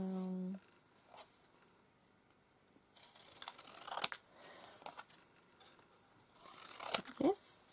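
Scissors trim small paper focal images for a craft project, giving a few faint, crisp snips and light paper rustles close by, separated by quiet pauses and brief handling noises.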